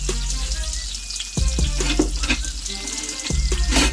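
Mushrooms frying in bacon fat for an Irish breakfast give a steady, close sizzle, broken by a few dull knocks from stirring or handling the pan.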